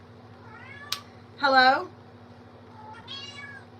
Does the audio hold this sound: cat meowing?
yes